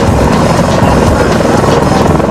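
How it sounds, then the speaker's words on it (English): A military helicopter hovers low over Marines and Humvees, its rotor blades producing a loud, steady, close thudding roar with dense broadband wash that fills the whole moment without a break. "the copter's rotor blades subject the Marines on the ground to hurricane force winds"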